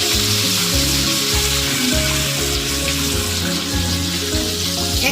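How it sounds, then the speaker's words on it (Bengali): Tilapia fish heads frying in spiced oil one at a time in a pan, a loud steady close sizzle with crackling pops throughout and no talking. "মাছের মাথাগুলো নিয়েছিলাম, সেগুলো আমি একটা একটা করে ভেজে নিব"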